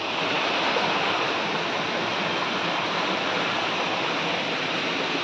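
Waterfall roaring in a steady, dense wash of falling water, loud and close, unbroken for the whole stretch with no voices over it.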